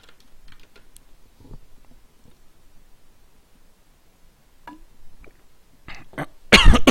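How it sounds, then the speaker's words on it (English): A single rough cough bursts close into a microphone near the end, loud and sharp after a stretch of quiet keyboard typing and faint background noise. "Sorry if I coughed into the mic a little bit roughly there."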